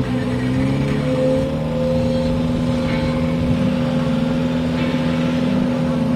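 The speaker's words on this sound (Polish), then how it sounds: "Tomasz Osyłkowski, Opel Ascona, RWD Turbo." At a quarter-mile drag race, an Audi A3 1.9 TDI and a rear-wheel-drive Opel Ascona 2.0 turbo hold a loud, steady engine drone with faint outdoor background noise and no speech.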